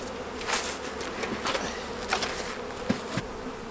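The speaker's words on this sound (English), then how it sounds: "They've got a lot of bees packed." Honey bees buzz at a hive split, a continuous insect drone close by with scattered sharper passes of individual bees and a few faint knocks of hive handling.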